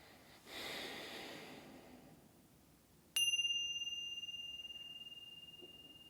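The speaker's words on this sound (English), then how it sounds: "We'll start with one ring of the bell." A meditation bell is struck once, giving a clear bright ring that sustains and slowly fades, preceded by a soft breath in a quiet room.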